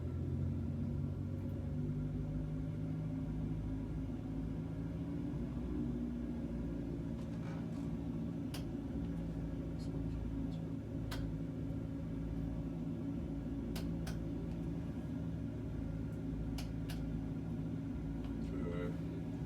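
A small single-engine aircraft runs up to 1800 rpm for a magneto check, a steady loud droning engine roar with deep low rumble throughout, with faint talk over it.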